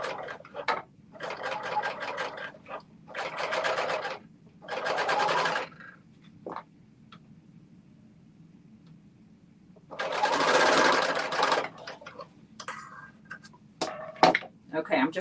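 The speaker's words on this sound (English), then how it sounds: "So I basically serged these pieces together." A serger sewing machine stitches fabric pieces together in several loud, close bursts of fast mechanical whirring, each lasting a few seconds, separated by pauses with clicks and handling noise. Someone talks briefly in the background.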